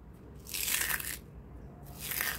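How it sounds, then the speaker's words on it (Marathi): Crispy barnyard millet (bhagar) kurkure snacks crunch in two loud, close bursts, one long and one shorter, with a pause between and no talk. "मस्तच कुरकुरीत असे हे भगरचे कुरकुरे आपल्या इथे तयार झालेत"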